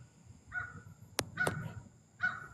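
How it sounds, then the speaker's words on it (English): A large crow caws outdoors in three short harsh bursts spaced about a second apart, with a couple of sharp clicks between them, fairly close and alone over a quiet background. "It's a crow. It's not a hawk."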